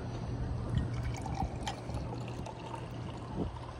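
Expired champagne being poured into a glass, a close, continuous trickle and splash of liquid with small fizzy clicks, steady and moderately quiet.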